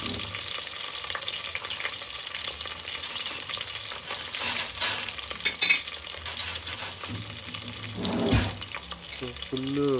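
Green chilli, onion and curry leaves sizzle and fry steadily in oil for mandakki, with stirring scrapes and a brief run of tap water, under intermittent talking.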